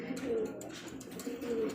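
Aparajita Lakka pigeons, a male and female pair at a farm, giving soft, low repeated coos in two close phrases, near and moderately loud with no talk over them.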